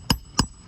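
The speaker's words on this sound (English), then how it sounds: "Now we have our new nails, and we're gonna start hammering." Two sharp hammer strikes about a third of a second apart drive new nails into roof shingles, close and distinct against a quiet background, with no talk.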